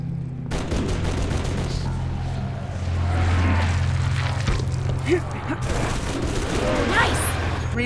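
Rapid gunfire bursts and explosions from Halo 3 ODST Firefight mode against the Flood, dense and continuous over a low rumble, with a voice talking over the action.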